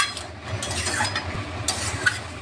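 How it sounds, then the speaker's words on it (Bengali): Malabar spinach chachchari is stir-fried in a pan with soft scraping and stirring strokes over a low, steady sizzle, close and fairly quiet, with occasional light knocks of a utensil. "কষিয়ে নিচ্ছি, আর একটু ভাজা ভাজা করে নিলেই হয়ে যাবে"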